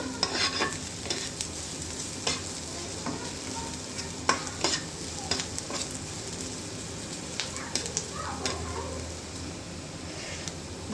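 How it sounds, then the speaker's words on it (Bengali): Onion frying lightly in a pan while being stirred, a soft steady sizzle with frequent scraping and tapping strokes of a spoon against the pan, close but fairly quiet, no talking. "দেখতে পাচ্ছেন পেঁয়াজটা হালকা বাদামি হয়ে আসছে, হালকা করে ভেজে নেব।"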